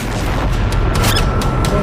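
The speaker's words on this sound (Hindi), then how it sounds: "चंद सेकंड के बाद होता है बड़ा धमाका।" A large blast from an explosive charge set against a Merkava tank during the Israel–Hamas war. It comes through as a loud, rough burst of rumbling noise with a few sharp cracks near the end.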